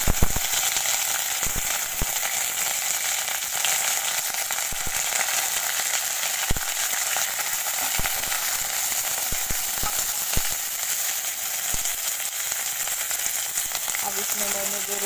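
Crushed garlic, four green chillies and curry leaves fry in mustard oil, giving a steady, close sizzle with occasional sharp crackles and pops throughout.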